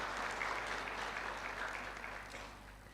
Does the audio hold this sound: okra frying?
no